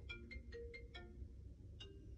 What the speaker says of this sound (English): Quick, get the phone.